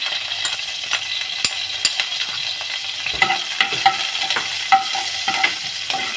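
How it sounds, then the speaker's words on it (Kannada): Green chillies, curry leaves and ginger fry in a pan for rava vada, giving a steady crackling sizzle with close scraping stir strokes throughout and no speech. "ಇದನ್ನೆಲ್ಲ ಜಸ್ಟ್ ಒಂದು ಸೆಕೆಂಡ್ ಫ್ರೈ ಮಾಡ್ಕೊಳ್ಳೋಣ"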